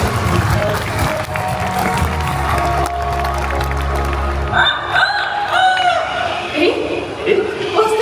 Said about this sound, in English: What's that? A rooster?